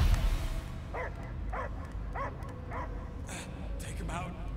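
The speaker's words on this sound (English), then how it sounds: "I hear only barking." A dog barks in a Guardians of the Galaxy video game scene, a run of short rhythmic barks and yips at moderate loudness over a steady background hum.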